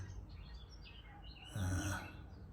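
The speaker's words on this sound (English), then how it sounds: "birds that you might find around here on this pond, on this lake" Birds calling around a pond at Elsecar Reservoir near Barnsley, a scatter of chirps and tweets followed by a louder burst of calls, faint and outdoors.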